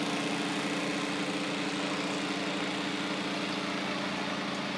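Brand-new pump in a HERMS home brewing setup, circulating hot liquor tank water through rubber tubing, gives a steady motor hum and drone, close and continuous without pause.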